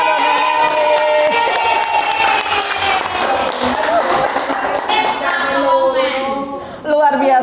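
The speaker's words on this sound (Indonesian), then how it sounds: "Beri tepuk tangan buat Nelly." A crowd claps and cheers loudly throughout a school training session on positive culture, with children's and adults' voices mixed into the dense, steady applause.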